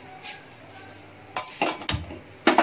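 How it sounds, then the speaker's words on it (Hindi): A metal kadai set down on a gas stove in a home kitchen while making mirchi pakoda, a few sharp clanks and clinks of metal on the burner grate, close and fairly loud against a quiet room. "हमने गैस पे कढ़ाई चढ़ा दी है"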